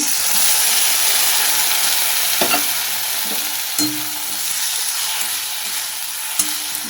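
Mustard-poppy seed paste is stirred into sizzling fish curry masala, giving a dense, loud, steady frying hiss with occasional spoon scrapes and taps, up close with no talk.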